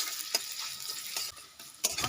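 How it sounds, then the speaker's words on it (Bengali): Chopped onion fries in oil in a frying pan with a dense, steady hiss, punctuated by a few sharp spatula scrapes during stirring. "বৌমা আমি এটাকে ভালো করে নেড়ে নিচ্ছি, কেমন?"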